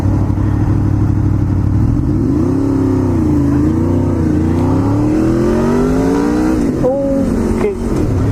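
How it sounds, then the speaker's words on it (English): A Honda car with a VTEC engine revs while driving along a village road in the Cotswolds, its loud engine note rising and falling steadily before climbing sharply in pitch as it accelerates, heard from inside the car. "I just love the sound of that VTEC."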